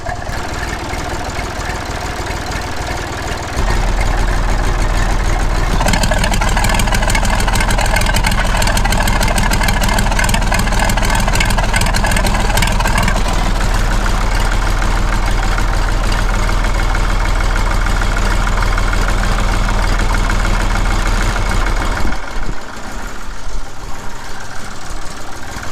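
A Massey Ferguson 35X tractor engine fitted with a new exhaust idles steadily at about 800 RPM, a loud, continuous low rumble with a throaty pulse that runs for most of the stretch before cutting off near the end.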